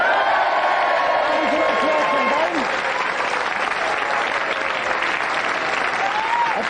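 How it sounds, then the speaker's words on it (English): A television studio audience at a game show applauds steadily and loudly throughout, a dense continuous wash of clapping with some cheering mixed in. "Give them a round of applause."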